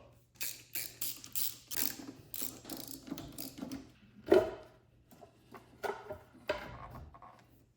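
A hand ratchet loosens 8 mm bolts on the engine of a 1997–2004 C5 Corvette, crisp repeated clicking bursts in short rhythmic runs with pauses between, close and fairly quiet.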